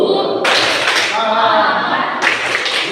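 A school class does spirit clapping (tepuk semangat) in rapid bursts, loud and close, with a short pause between two rounds of clapping.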